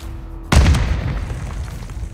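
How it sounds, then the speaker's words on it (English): A single grenade explosion in Warzone 2 lands with a sudden deep boom and then rumbles away over the next second or two, loud and fairly close. "You trying to throw grenades at that building?"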